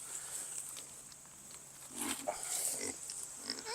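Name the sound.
pigs on a farm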